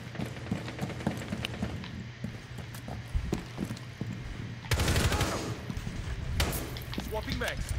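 Gunfire in Rainbow Six Siege on the Hereford Base map, with scattered shots and a louder, denser burst of fire midway, heard under ongoing game noise and low background sound.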